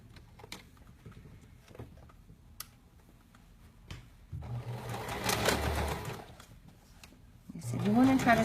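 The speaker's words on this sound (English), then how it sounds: "We're just gonna sew this down real quick." Sewing machine stitching down a seam on a garment, a steady mechanical whirring run after scattered quiet ticks, then a second louder burst near the end, close up, with a voice speaking briefly.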